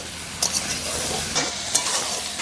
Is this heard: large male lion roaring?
no